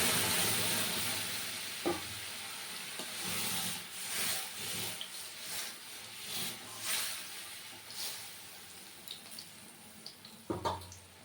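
Whole cumin seeds and ginger go into hot oil as a tempering for a Bengali vegetarian dish, giving a soft, fairly faint hiss and sputter with a few light knocks, close by and without talk.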